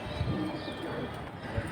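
High-flying coloured pigeons coo in a low, soft rumble, with a few brief murmurs rising over a steady background hum of a busy pigeon market.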